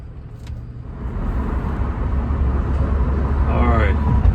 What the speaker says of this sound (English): you can really hear that turbo spool when you step on it in sport